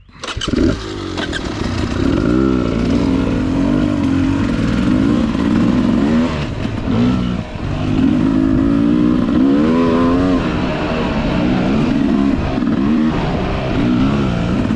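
A Beta 300RR two-stroke dirt bike on a forest trail revs hard, its engine note rising and falling continuously. The motor sounds close and loud for the whole stretch, with no speech.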